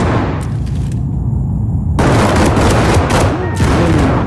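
A Smith and Wesson firearm fires in the tactical shooter Ready or Not, with a burst of loud, close shots and echoing fire that breaks off briefly and then resumes in several rapid reports.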